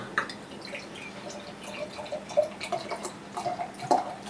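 A very dark stout, Founders 2020 KBS, pours and trickles into a glass up close, a soft gurgling stream with small fizzing splashes, quiet and without talk.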